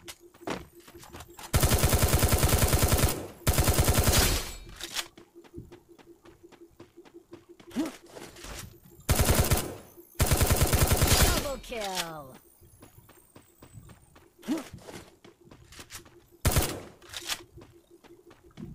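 Loud bursts of automatic gunfire in a Free Fire Clash Squad ranked match, several long rapid volleys with shorter single shots and quieter game sounds between, no speech.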